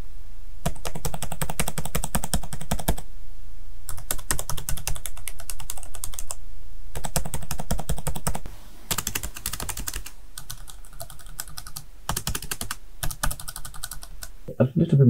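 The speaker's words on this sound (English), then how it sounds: "a little bit more clicky, audible clicking noise." Fingers type on ThinkPad T14 and T480 laptop keyboards in bursts of rapid, crisp clicking separated by short pauses, the keystrokes close and fairly loud.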